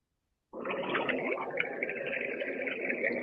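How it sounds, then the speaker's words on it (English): A sound labelled as kelp plays from a drink app, starting abruptly after a moment of silence and holding as a steady, dense, broadband drone at moderate loudness. "So this is the sound of a kelp."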